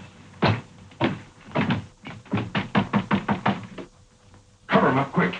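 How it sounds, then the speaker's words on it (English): Knuckles rap on a door in an old film scene, a few loud separate knocks followed by a quick run of rhythmic raps, then a heavier burst of knocking, with no voices. "We'll knock on the door."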